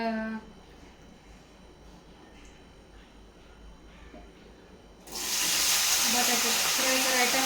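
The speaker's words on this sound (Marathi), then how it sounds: "चला तर आता तेल गरम झालेलं आहे कढई तापाय ठेवली होती" Hot oil sizzles loudly in a kadai while sabudana khichdi is being made, a sharp steady hiss bursting in partway through after a stretch of quieter talking.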